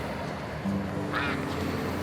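Harvey, a pet duck, gives a short quack, a brief nasal burst over steady outdoor background noise, with a low hum running through.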